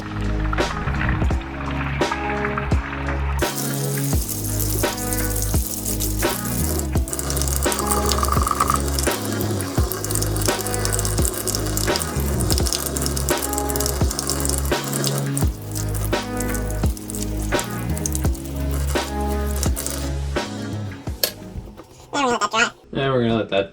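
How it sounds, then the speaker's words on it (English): Running tap water and splashing in a sink as a toy Nissan Skyline 2000 GTR car body is washed with soap, a continuous wet rush, with music playing underneath throughout. "so we're going to wash it with some soap and water."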